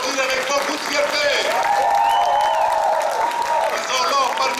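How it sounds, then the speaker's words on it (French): A rally audience applauds candidates at a Quebec political speech, steady clapping with scattered cheers underneath a loud, sustained voice that keeps talking over it. "nous pouvons les applaudir avec beaucoup de fierté"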